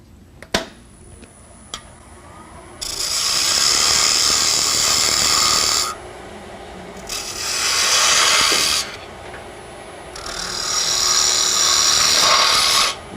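Small wooden spindle on a wood lathe, the tool cutting downhill with the grain in three sustained bursts of bright scraping hiss, separated by quieter motor hum and a few sharp taps.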